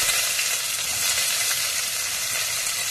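Chopped onion hits hot oil with cardamom and star anise while mutton curry is being cooked. Loud, dense frying hiss fills the whole moment at close range, with no voices.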